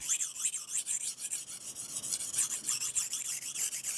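Kitchen knife drawn back and forth over a sharpening stone in a steady rapid rasping rhythm to remove the burr, close up and continuous with no speech.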